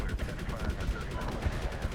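Rapid bursts of gunfire crackle continuously, dense and punchy, like automatic weapons firing in Medal of Honor.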